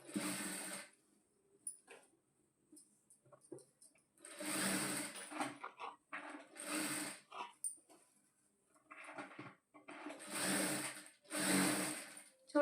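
A domestic sewing machine stitches the side seams of a piped blouse in several separate bursts of running, each a few seconds long, with quiet pauses in between; the whirring is close and fairly faint.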